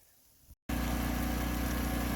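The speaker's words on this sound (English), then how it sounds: "I got the generator running" A generator starts up after a quiet stretch and a brief gap, then runs loud and close with a steady, dense engine drone.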